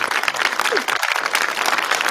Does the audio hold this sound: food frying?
no